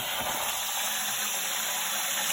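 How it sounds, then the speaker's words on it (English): Hot water rushes steadily from a water heater drain hose into a bucket during tank draining, a continuous close hiss and gush with no pauses. "And it'll be hot water filling up my bucket."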